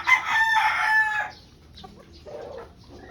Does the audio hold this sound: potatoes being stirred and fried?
no